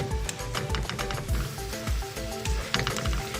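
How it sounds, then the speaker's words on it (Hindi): Chopped onions frying hard in oil over a high flame, a loud steady sizzle with dense crackling pops and spatter running throughout, no voices. "प्याज को हम लाइट ब्राउन होने तक अच्छे से फ्राई करेंगे।"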